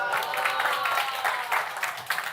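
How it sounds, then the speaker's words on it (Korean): Applause from a church youth congregation at a Sunday service, a steady wash of many hands clapping together throughout, fairly close and full, with no talk over it. "박수 한번 제대로 치던지."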